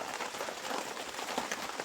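Soft, steady patter of light rain, a dense hiss of small drops falling on a surface, quiet and even throughout.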